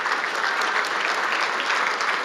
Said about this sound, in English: So a big round of applause for Flair Airlines,